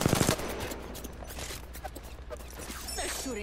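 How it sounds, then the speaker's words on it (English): Automatic and rapid gunfire in an Apex Legends firefight: a dense, loud burst opens, then scattered shots and impacts continue at a lower level through the rest of the moment. "They're shooting at me."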